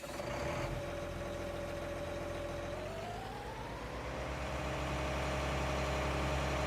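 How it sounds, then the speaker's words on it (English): A Versatile tractor engine idles in Farming Simulator 19, a steady low mechanical drone with a rising whine partway through, heard alone and loud. "So I'll give you guys a listen to the engine sound."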